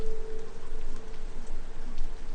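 Evening rain patters steadily against a window, a soft continuous hiss with faint droplet ticks and a low hum running beneath, no voices.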